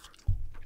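A single close bite into a crunchy Granny Smith apple, a short, sharp crunch followed by brief chewing, heard alone.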